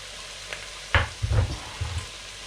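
Onion dropped into a hot pan with chicken for a chicken saag dhansak, giving a few short bursts of sizzling and stirring scrapes over a low background hiss, close and without talk.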